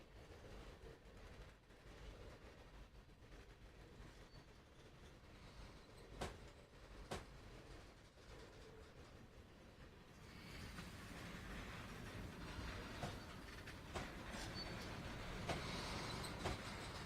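Freight cars of a New York Central train in Train Sim Classic roll along rails on the Boston–Albany route, a steady rumbling with a few sharp clanks, growing louder and denser midway, with no talk.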